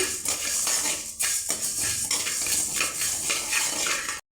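Roasted coriander seeds for tamarind rice powder poured and scraped from a pan into another vessel, a continuous close rattling, gritty rustle with metallic scrapes that stops abruptly at the end.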